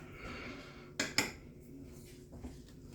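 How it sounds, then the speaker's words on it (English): Utensil mixing ingredients for hummingbird bread with coconut, pineapple and banana in a bowl: two quick, sharp clinks of metal against the bowl over a soft background hum, then a fainter scrape. "Mix that up a little bit."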